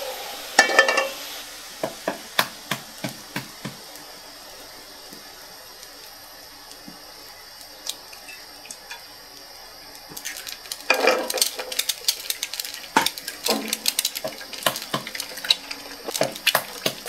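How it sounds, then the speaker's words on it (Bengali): Eggs frying in a little oil in a home kitchen pan: a faint, soft sizzle broken by scattered clinks and scrapes of a utensil against the pan. No one speaks. "অল্প তেল দিয়ে ডিম ভাজা।"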